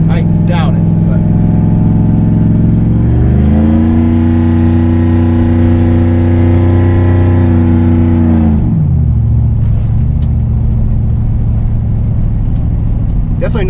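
A 2002 Chevy Suburban engine with its exhaust cutout open, heard close and very loud: a deep idle rumble swells into a sustained rev for several seconds, then drops back to a throaty idle.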